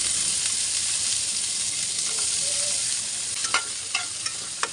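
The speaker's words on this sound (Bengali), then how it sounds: "কড়াইতে সামান্য একটু ঘি দিয়ে এখন আমি বাদাম, কিশমিশ এগুলোকে একটু ভেজে নেব।" Nuts and raisins fry in a little ghee in a wok, giving a steady bright sizzle with a few sharp pops and clicks of stirring near the end.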